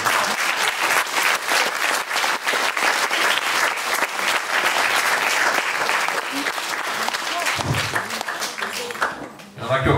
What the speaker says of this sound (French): On les applaudit.